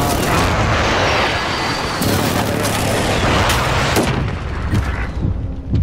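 Precision airstrike explosions boom and crack in a shooter video game, a heavy, continuous barrage of blasts and sharp reports that thins toward the end, with faint voices beneath.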